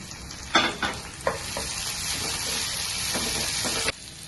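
Tomatoes tipped into a hot pan for palak mutter curry set off a close, steady sizzle, with several sharp spatula scrapes and stirring knocks over the frying hiss.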